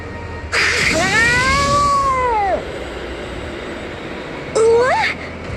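In the 3DS game Bravely Second: End Layer, a cat lets out a long drawn-out meow followed a couple of seconds later by a shorter rising one, both loud and near over soft background noise.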